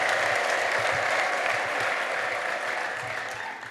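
A church congregation applauds for Jesus, a dense, even roar of clapping from many hands that stays strong and then gradually fades slightly; no distinct ululation stands out.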